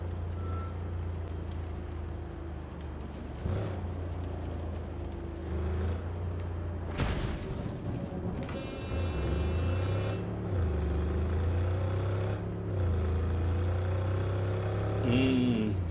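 A Militech Civilian car in Cyberpunk 2077 drives through the city, its engine hum rising and falling with acceleration and gear changes, a sharp impact-like burst in the middle, game ambience around it and no talk.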